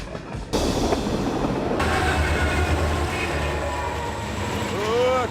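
A train rumbles steadily along the rails close by, a continuous heavy roar with a low engine drone and a brief rising tone near the end.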